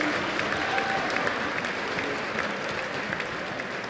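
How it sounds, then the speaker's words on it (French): Audience applause at a Super Smash Bros. Wii U tournament grand final, honouring the third-place finisher; dense steady clapping filling the hall for several seconds with a faint murmur of the crowd beneath. "On l'applaudit s'il vous plaît, Griffith, troisième de cette assemblée."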